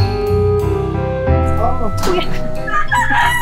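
Fighting roosters crow near their chicken coops, loud and close, with several overlapping calls and clucks over a low background drone.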